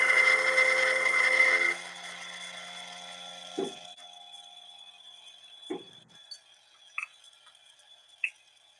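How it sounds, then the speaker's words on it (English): Espresso grinder whirring through an 18 gram dose of coffee beans, a dense loud burst lasting under two seconds, then quiet with a few light clicks and taps. "This grinder is super quick."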